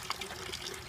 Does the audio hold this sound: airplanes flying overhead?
no